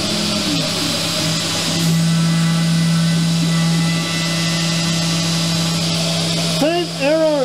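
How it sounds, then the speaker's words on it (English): A CNC machine spindle spins at its lowest RPM, giving a steady, loud electric whine with a constant tonal hum throughout, a brief louder swell early on, and some warbling sounds near the end. "G-code is loaded up, machine is zeroed, power is on. Lowest RPM."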